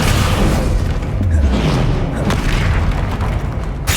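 Descendo spell impact in the Hogwarts Legacy video game, a loud, deep booming slam with rumbling low end that stays heavy and continuous, with a swooping tone in the middle and a crackling tail.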